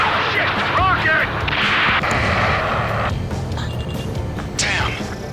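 A rocket explosion in the Ace Combat 7 combat flight game: heavy booming blasts with sharp cracking bursts over a dense roar of engines and battle noise, loud and continuous, a whistling streak near the start and again near the end.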